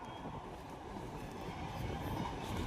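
A train on the railway line to Bihar near a village in Ghazipur, Uttar Pradesh, rumbles past at a distance in a low, steady roar that swells slightly toward the end.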